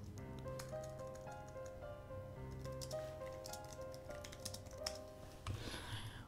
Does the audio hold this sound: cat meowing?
no